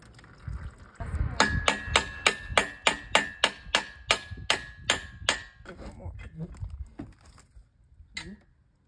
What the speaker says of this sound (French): prends le marteau et tape-lui un coup sur la gueule